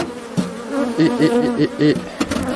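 Honey bees buzzing loudly and close as frames are lifted out of a hive to make an artificial swarm, a droning hum with wavering pitch and a few knocks from handling the frames.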